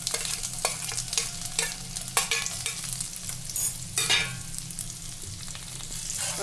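Green chilies cut lengthwise and chopped ginger fry in a pan with hing while a spoon stirs them, giving a constant loud sizzle broken by repeated sharp scraping strokes, with no voices.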